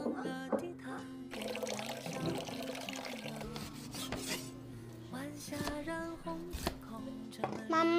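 Soaked peas are washed by hand in a basin of water, with repeated rubbing, sloshing and clattering of the peas against the container, close and fairly busy; voices talk intermittently throughout.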